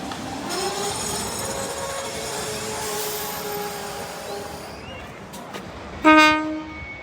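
A tram rumbles past steadily at the Sydney Tramway Museum, then a loud horn blast sounds near the end.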